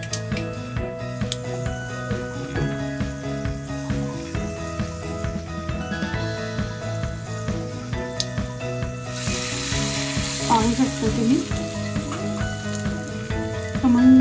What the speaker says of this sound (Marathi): आता यावरच मला ती तेलाची फोडणी ओतायची आहे.